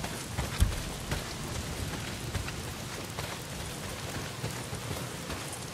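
Heavy rain falls in the video game Days Gone, a dense, continuous hiss of downpour with scattered louder drops and a faint low rumble, at a moderate level with no talking.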